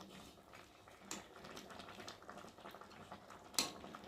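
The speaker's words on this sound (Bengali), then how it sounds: "তো খুন্তি দিয়ে ভালো করে নেড়ে দেবো" A metal spatula stirs small-fish curry with potato and eggplant in a pan, giving faint scraping and occasional sharp clinks against the pan over a quiet simmer.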